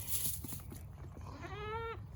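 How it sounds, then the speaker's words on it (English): A goat gives a single wavering, nasal bleat near the end, preceded by rustling and shuffling in a farm setting, fairly close but quiet. "Come on, goats. Let's go, goats."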